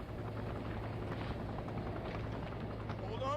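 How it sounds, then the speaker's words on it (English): Police helicopter in The Incredibles PS2 video game, a steady whirring rotor drone with dense engine noise, continuous and fairly close throughout. "Where's the police helicopter?"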